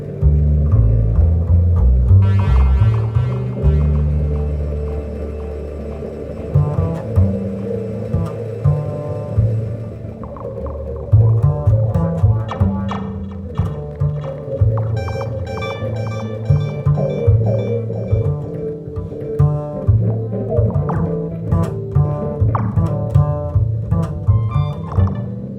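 A Eurorack modular synth CSL module plays loud, resonant tones with deep, wavering low notes, joined by plucky, rhythmic pulses and metallic overtones that grow busier in the second half.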